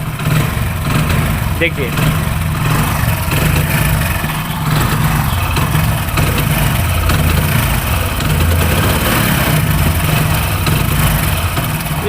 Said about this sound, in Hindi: अब जब मैं रेस दूँगा, देखिए इसके बाद जब हम रेस देते हैं तो बाइक बड़बुड़ करने लगता है, रेस नहीं बनती है।